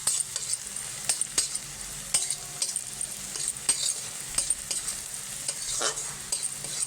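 Onions frying in a pan with turmeric powder, stirred with a utensil that clicks and scrapes against the metal in an uneven rhythm over a soft, steady sizzle, close by with no talk.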